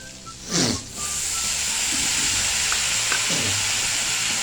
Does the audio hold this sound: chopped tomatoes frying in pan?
yes